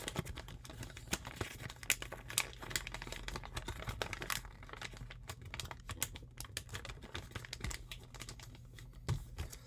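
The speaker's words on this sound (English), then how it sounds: "And then we are going to fold each of the flaps in on itself." Paper is folded into an origami crane at close range, with soft crinkles, creases and taps coming in irregular bursts and no talking.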